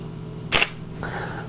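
A single-lens reflex camera shutter fires at f4, a sharp close mechanical snap followed by a softer whir as the mirror and shutter reset.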